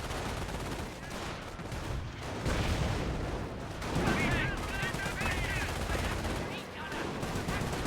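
Sustained machine gun bursts and scattered rifle shots from a World War II strategy game battle, including base MG emplacements laying down suppressing fire, dense and continuous throughout with commentary talking over it.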